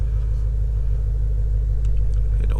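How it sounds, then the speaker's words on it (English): Ford Shelby GT350 V8 running at a steady idle, a deep continuous low rumble with a slight lope, close by and fairly loud, with a faint rise near the end. "So start the car."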